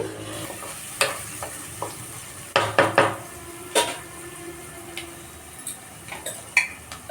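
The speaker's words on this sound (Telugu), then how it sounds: "ఉల్లిపాయలు కొంచెం మగ్గిన తర్వాత చూద్దాము ఇలా మంచిగా కలుపుకోండి" Onions stirred in a cooking pan for a bottle gourd and drumstick curry, a steady frying sizzle under repeated scraping clinks of a spoon against the pan, close and moderately loud with sharp irregular knocks.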